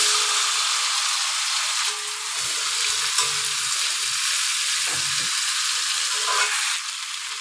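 Potatoes fry in heated peanut oil for a potato kara curry, giving a loud, steady, close sizzle that holds from start to finish, with a few faint stirring scrapes and no voices.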